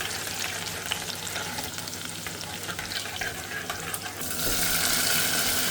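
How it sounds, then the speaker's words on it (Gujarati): Cumin, chili, ginger and garlic frying in hot oil in a pot, a dense bright sizzle that swells louder and fuller toward the end, close and without speech. "એમાં જીરું નાખી દીધું છે અને એમાં મરચું અને અદરક લસણ તેલમાં નાખી દીધું છે"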